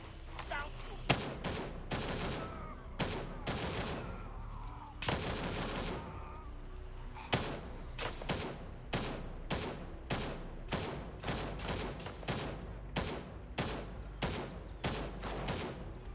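AK rifle gunfire in Gray Zone Warfare cracks out in rapid bursts and then a steady run of evenly spaced single shots, loud and close, with no voices over it.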